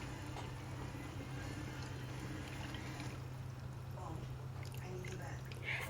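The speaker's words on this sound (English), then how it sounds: "Next step, very easy, is to pour it into the pot." Thick peanut butter soup is poured into a cooking pot, a faint liquid trickle and gurgle over a steady low hum.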